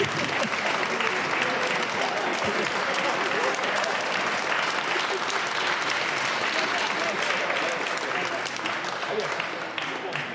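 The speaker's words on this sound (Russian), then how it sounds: "Аплодисменты!" Sustained applause from a crowd at a freediving competition award ceremony in Nizhny Novgorod, steady dense clapping filling the whole stretch without a break, fairly close and even in loudness.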